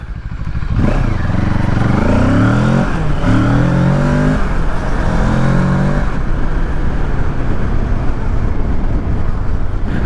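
A QJ Motor SRK700 motorcycle, sharing the twin-cylinder engine of the Kawasaki Z650, roars loudly and close as it accelerates through repeated rising revs between gear changes, then settles into a steady riding drone with wind noise.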